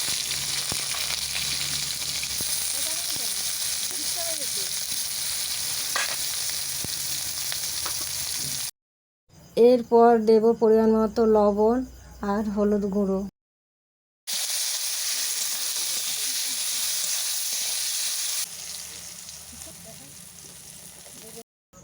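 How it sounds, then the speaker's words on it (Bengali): Brinjal frying in hot mustard oil gives a steady, dense sizzle that runs for several seconds, breaks while a person speaks, then returns loud and even. "তেল গরম হয়ে গেছে, এরপর আমি বেগুন ভেজে নেব"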